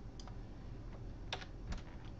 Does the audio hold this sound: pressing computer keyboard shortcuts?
yes